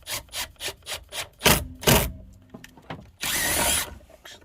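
A power driver sinks a panhead wood screw into aluminum, cutting new threads, with rapid ratcheting bursts, a couple of louder whirring spins, and a final sustained grinding drive close by.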